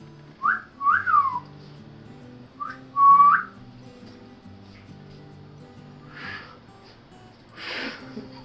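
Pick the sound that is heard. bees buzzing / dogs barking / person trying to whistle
person trying to whistle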